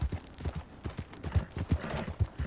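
Rhythmic clip-clop of horse hooves in a video game, a steady run of thuds at close range, moderately loud with no talk over it.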